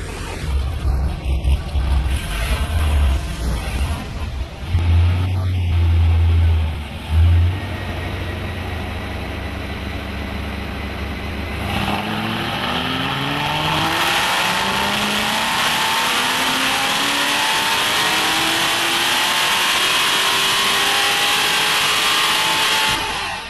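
A Hennessey HPE650 Camaro strapped to a chassis dyno at an indoor facility idles with a low rumble, then its engine revs steadily upward through the gears in a long, loud, rising pull with no talk.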